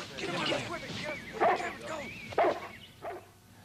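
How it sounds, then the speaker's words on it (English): A dog barks and yips a few times in short bursts, close by, mixed with people talking over it during a 1979 TV special. "Hey, what's the dog doing there?"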